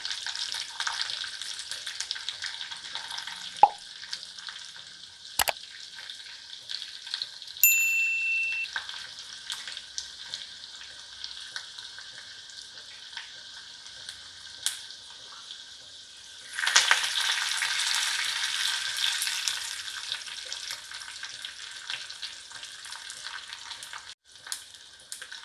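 Garlic and curry leaves sizzle in hot oil for a tempering, after cumin, for a vine spinach sambar. A steady close crackling hiss swells into a louder, denser sizzle partway through, with a few sharp clicks and no voices.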